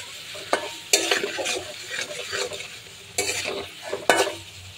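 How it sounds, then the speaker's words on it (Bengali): Spice paste with turmeric stir-fried in a pan before ridge gourd goes in, with a soft sizzle under repeated scraping strokes of a spatula that come in irregular bursts. "মশলাটাকে ভালো করে কষিয়ে নেব"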